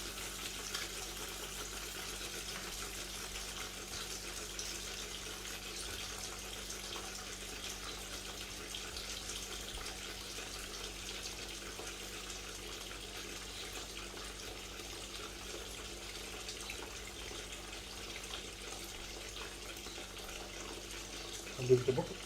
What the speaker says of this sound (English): now we're going to turn the water on just to flush it out until the water goes clear